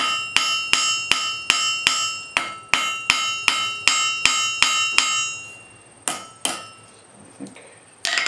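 A small hammer strikes metal while an arrowhead is shaped from an old punch, giving bright, ringing taps at a steady quick pace, then a pause and a few slower, scattered strikes near the end.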